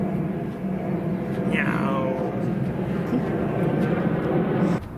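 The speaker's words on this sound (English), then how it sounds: "There's a really large plane flying over from Zurich Airport a moment ago." A large passenger jet passes overhead after departing Zurich Airport, a steady broad rumble filling the whole clip outdoors at a golf practice spot, with a faint rising whine partway through and no talking.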